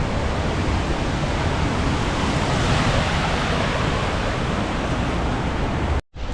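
Steady, loud rushing water fills the whole stretch, a dense continuous roar of Dubai floodwater surging through overflowing drains, cutting off abruptly near the end.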